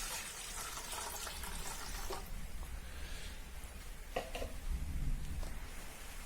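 Water pours and splashes steadily into a pot set on an induction cooktop in a kitchen, a continuous close trickle with a brief louder gush near the end.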